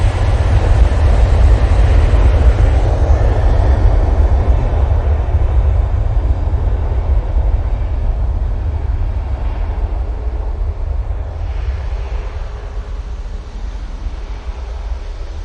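A TUI airliner bound for Corfu takes off from Manchester Airport, a loud, deep engine roar that dominates at first and slowly eases as the aircraft climbs away.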